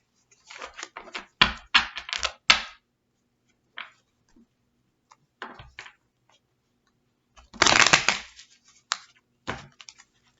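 Tarot cards are shuffled in quick crisp flutters and riffles, with pauses between bursts and a longer shuffle near the end, close and fairly quiet.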